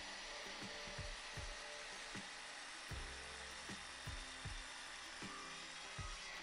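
Ferrex 20V cordless mitre saw cutting through a piece of hardwood, a steady high whine of the blade running continuously with repeated low thumps and knocks of the wood underneath, fairly faint and with no voice.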